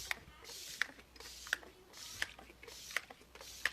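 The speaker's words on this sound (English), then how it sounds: "the last thing we're going to do is set our face with setting spray" Setting spray mists onto a face in a series of soft, quiet spritzes with a sharp click at each pump, evenly spaced about every 0.7 seconds, with no talking.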